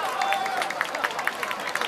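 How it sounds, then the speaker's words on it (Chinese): Audience at a magic show at a graduation performance in New Taipei, a brief burst of clapping with crowd noise under a voice, close and fairly loud. "掌声鼓励"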